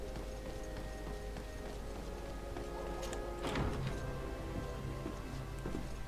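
Horse hooves clip-clopping in the video game GreedFall: a quiet, steady trot of hoofbeats over a soft ambient background, with no speech.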